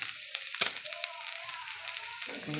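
Pasta sautéing in homemade ghee in a pan, giving a soft steady sizzle broken by a few scraping stirs, close and moderately quiet with no talking.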